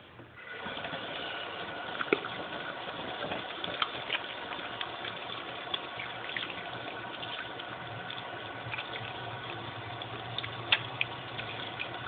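Running water rinses thick Lush Lust soap lather off, a steady, even rush that continues throughout at close range with no one talking.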